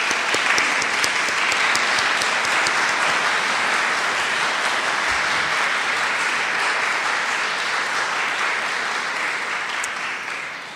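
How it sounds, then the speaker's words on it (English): A full audience at a national oratorical festival applauds warmly in loud, dense, continuous clapping that holds steady for about ten seconds before easing slightly at the end. "please let's all give them a wonderful round of applause"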